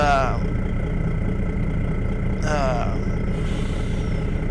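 A Case IH Magnum twin-turbo 886-horsepower tractor in Farming Simulator 22 runs with a steady, loud engine drone, while someone talks over it.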